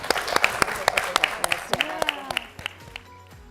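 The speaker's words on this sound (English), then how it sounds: "a round of applause for you guys" A small audience at a live talk-show taping claps in sparse, distinct hand claps that thin out and fade toward the end, while a speaker's voice is heard underneath.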